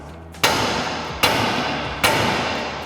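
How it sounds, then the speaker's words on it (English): Three sharp metallic hammer taps on a RAM 1500 TTX front steering knuckle, struck to unseat the lower ball joint, evenly spaced under a second apart, each ringing briefly before fading, close and loud with no talk. "we're going to grab our hammer, give a few taps on our knuckle itself"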